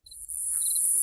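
Crickets chirp in a steady, continuous high trill, loud and close, with no voices over it.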